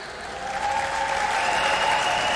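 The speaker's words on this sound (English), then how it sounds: "please give a round of applause" Sustained audience applause at the Miss Universe preliminary competition in Eilat, Israel, a steady, dense clapping from a large crowd that holds at an even level throughout.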